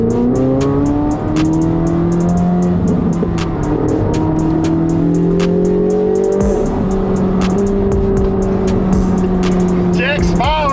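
Inside a Chevrolet Corvette Z06 driven in manual mode, the engine drones loudly and its pitch climbs and falls through the gears. A voice talks over the steady cabin roar, and a few sharp clicks cut through it.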